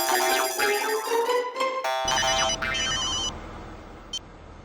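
A telephone rings while a call is placed to Mehta in a Taarak Mehta Ka Ooltah Chashmah comedy scene, giving loud, close electronic ringing tones in a stepped melodic pattern that fade toward a brief final chirp, with no one speaking.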